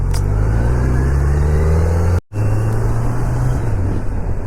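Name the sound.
road traffic heard while riding a Kawasaki Z900 motorcycle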